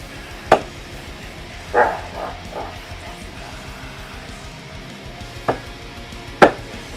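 Garlic and other stir-fry ingredients being smashed on a board: four sharp, loud whacks spaced irregularly, with quieter knocks and rustling between them.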